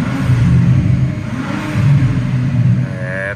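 A Porsche engine revs steadily and loudly, a close continuous rumble that swells midway and rises slightly in pitch toward the end.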